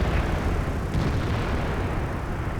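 A tank cannon shot bounces off armor in the World of Tanks game, heard as a heavy, sustained booming rumble filling the whole moment with a dull, broad roar and no voices.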